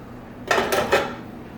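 Metal cooking pots clank together in a kitchen after a sauce is strained through a chinois, three quick ringing knocks close by in a short burst, then quiet.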